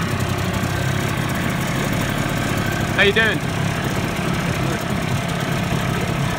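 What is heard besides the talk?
boat engine idling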